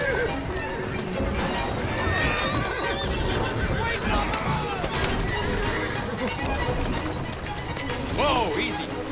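A horse whinnies and neighs over steady galloping hoofbeats, with a second rising whinny near the end amid busy outdoor game sounds from Assassin's Creed Syndicate.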